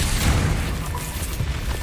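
Confringo fire spell blasts in Hogwarts Legacy combat, a dense rumbling burst of booming impacts with crackling debris over a steady low roar, loud and close throughout.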